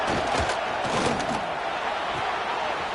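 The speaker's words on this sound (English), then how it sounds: "here comes the noise. This crowd is trying to inspire this defense to make a big red zone stop." Stadium crowd roaring steadily in a College Football 25 game as the defense tries for a red zone stop, a dense, continuous wall of noise with a few sharp thuds early on.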